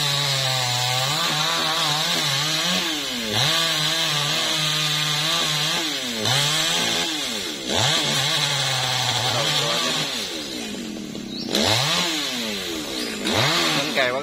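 A chainsaw whines at high revs through a long cut into a large paperbark tree top, its engine pitch dipping and surging repeatedly before briefly easing off.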